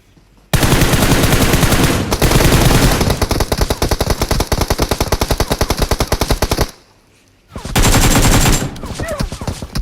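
Sustained automatic gunfire from the mobile battle royale game PUBG Mobile: loud, dense bursts of rapid shots running for several seconds, a brief pause, then another heavy burst.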